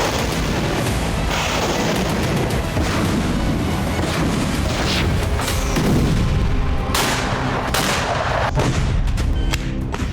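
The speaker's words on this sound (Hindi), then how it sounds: "खार्किव में पुतिन सेना जिस तरह से विस्फोट कर रही है" Artillery fire and explosions in Kharkiv during the Russia-Ukraine war: a dense, continuous barrage of loud booms and gunfire bursts overlapping throughout, with sharper blasts standing out near the end.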